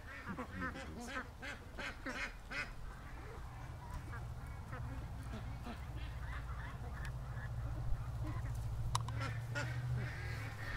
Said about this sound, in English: Oh, little duckies.